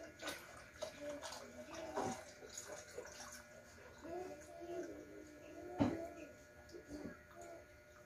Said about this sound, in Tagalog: Dagdagan na natin yung tubig.